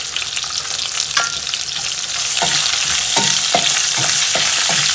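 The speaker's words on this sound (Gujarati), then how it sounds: "અને હવે આપણે આમાં હિંગ નાખીશું." A Gujarati tempering of curry leaves, chillies and asafoetida (hing) sizzles in hot oil for patra, a dense, close frying hiss with several short stirring knocks near the end.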